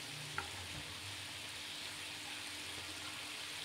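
Chicken topping for mie ayam sizzles quietly in a pan as it is stirred, a soft even frying hiss with one brief utensil tap near the start.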